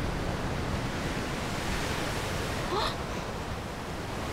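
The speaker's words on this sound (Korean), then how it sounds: "파도 소리 들리시나요?" Steady broadband wash of surf rolling in, continuous and fairly loud, with a brief chirping sound near the end.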